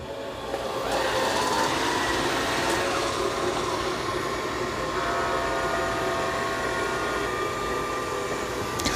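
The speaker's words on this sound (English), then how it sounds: "it detected the dirt, turned the vacuum off, and is mopping only" A robot vacuum mopping the floor with its vacuum turned off gives a steady mechanical hum and whir, continuous, with faint tonal whine and occasional brief shifts, fairly close and loud.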